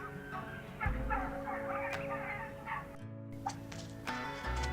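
Turkeys about ten weeks old on a Missouri turkey farm gobble and call in a dense, continuous chorus that sounds close by. Louder individual gobbles stand out above the steady hum of the barn.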